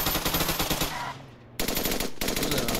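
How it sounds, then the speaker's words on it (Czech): Rapid automatic gunfire in a roleplay shooter game, with loud, dense bursts of machine-gun fire that pause briefly and then resume sharply. "Open fire! Headshot, bullseye!"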